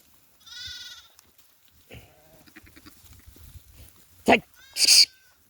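Sheep and goats bleat on a farm, with one wavering bleat early, then a short stretch of quiet talking, followed by two louder, close bleats in quick succession near the end.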